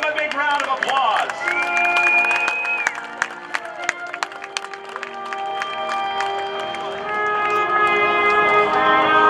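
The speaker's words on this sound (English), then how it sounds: "Let's give them a big round of applause." Crowd applause and cheering for the US Army Golden Knights parachute team at a military open house, a steady wash of clapping with scattered voices and whistle-like tones over background noise.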